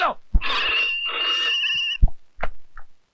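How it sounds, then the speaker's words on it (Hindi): A telephone rings in a scene from a 90s Hindi film. One long, bright ring is heard, followed by a few brief clicks and knocks that fade into quiet. "फोन उठा लो।"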